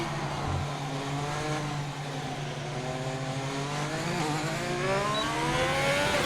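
A race car in a racing game at Spa Francorchamps, Belgium, its engine tone climbing steadily in rising sweeps as it accelerates, loud and continuous with no talk.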